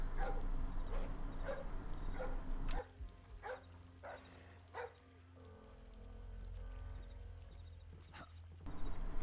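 A guard dog on a private estate in Splinter Cell Blacklist barks a few times, moderately near and spaced out. Other game noise and a low ambient hum run under it.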